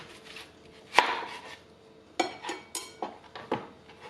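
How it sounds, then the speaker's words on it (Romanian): A knife chops vegetables such as onion and carrot on a board, sharp close knocks, one hard strike followed by a run of quicker, irregular cuts, with no voices. "Tăiem legumele."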